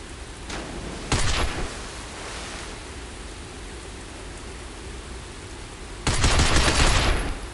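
Gunfire from a video game shooting range as shots are fired at a sign, two loud bursts of noisy blasts about five seconds apart over a steady background hiss.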